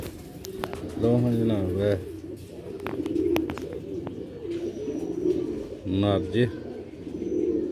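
Tiger breed pigeons cooing in soft repeated coos and rumbling calls, close by, with someone talking intermittently over them.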